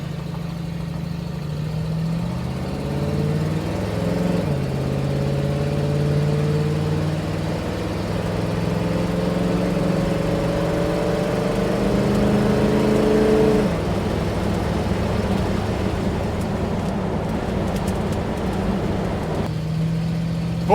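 An International Harvester Scout's 345 V8 idles steadily close by, a low, even rumble that lifts into a gentle rev and then settles back down. The engine is loud and heard alone.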